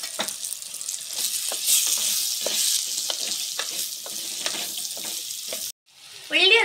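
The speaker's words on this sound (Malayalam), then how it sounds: "ഇനി നമുക്ക് ഇതിലേക്ക് നേരത്തെ അരിഞ്ഞു വെച്ച സവാള ഇതിലേക്ക് ആഡ് ചെയ്ത് കൊടുക്കാം." Chopped onions frying with spice powders in a pan for fish molee, a loud continuous sizzle broken by repeated scraping stirs, then a short pause before the sizzle returns.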